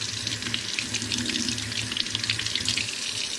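Running tap water pours over old iron artifacts found by metal detecting as they are rinsed of loosened rust, a loud, close, steady splashing hiss with no voices.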